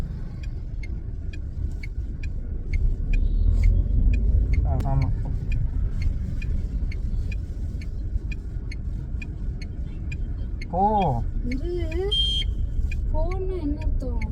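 A car engine hums while driving as the clutch is released, a steady low drone under a fast ticking indicator, with people talking and exclaiming over it.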